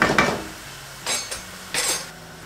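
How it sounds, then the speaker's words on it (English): Meat browning in a pot is stirred with a metal utensil, giving a few short scraping clinks against the pot in separate bursts over quiet background. "occasionally I'm going to come and stir the meat."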